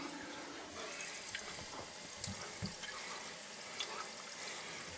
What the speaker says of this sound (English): now we got to open this back up and start letting a little bit of water in